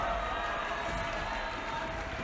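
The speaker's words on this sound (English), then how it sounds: "Listen to that crowd cheer." Crowd at the Vainglory World Finals esports event cheering steadily in a large venue, a dense, continuous roar of many voices with no clear breaks.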